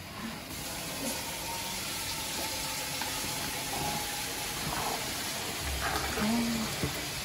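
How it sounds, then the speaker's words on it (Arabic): Boiling hot water is poured while cooking, giving a continuous broadband hiss and splash that runs steadily throughout at moderate loudness. "ننزل بميه سخنه بتغلي."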